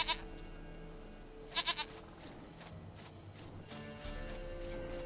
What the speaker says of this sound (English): Oh my gosh, goat, stupid goat.